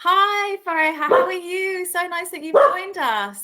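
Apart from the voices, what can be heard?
dog barking in the background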